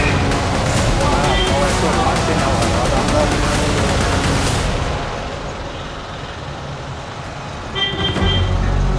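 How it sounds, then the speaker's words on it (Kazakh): Busy car traffic on a Cairo street, with loud engine rumble and road noise close by, a horn toot near the end, and people talking over it before the noise drops slightly. "Машиналар бар."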